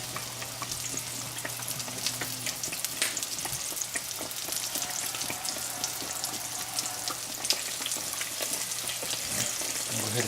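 Battered Cajun catfish fillets frying in hot oil, a dense steady sizzle and crackle close by, with faint clinks and a low hum underneath.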